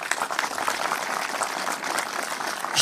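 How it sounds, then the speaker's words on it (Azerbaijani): An audience at a community association's meeting with soldiers at a military unit applauds to welcome a chairwoman, with sustained, fairly close clapping that holds evenly throughout. "Gəlin alqışlayaq Mahirə xanımı."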